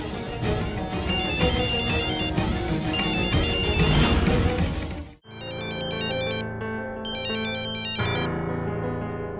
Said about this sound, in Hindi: फोन बज रहा है, उठा क्यों नहीं रही है?